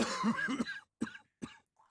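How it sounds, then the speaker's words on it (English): A short burst of harsh coughing from smoke in a Call of Cthulhu game, followed by two separate, sharper coughs after brief pauses. "You're coughing, it's green."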